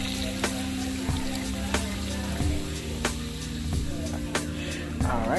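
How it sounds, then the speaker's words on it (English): Coca-Cola poured into a crock pot over ribs, a steady liquid splash and fizz that runs for several seconds with a few small knocks, close and moderately loud. "Go ahead and pour the Coke in."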